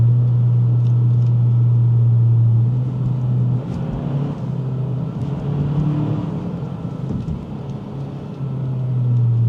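A 2024 Acura Integra A-Spec rolls over road bumps, a droning engine hum with low thuds and rumbles from the suspension, close and steady with no talk.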